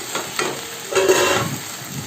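Soft scraping of a spatula stirring okra with salt and turmeric in a pan, over a gentle frying sizzle, close by and brief.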